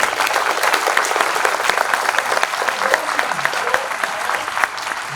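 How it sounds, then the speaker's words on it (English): A crowd applauds a college team at an alumni meet at Stevens Institute of Technology, a dense, even wash of clapping that holds steady throughout, with scattered voices mixed in. "Get like a round of applause."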